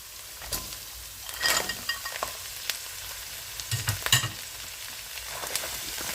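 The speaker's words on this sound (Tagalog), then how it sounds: "Ngayon, ilalagay ko naman yung alimasag." Mud crab halves sizzling and frying in a pan, with a steady crackle and occasional louder spits and stirring bumps, close up and without talk.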